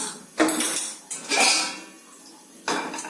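A metal wok clanks against a stove: a sharp clatter, a scraping settle, then another clang after a short pause.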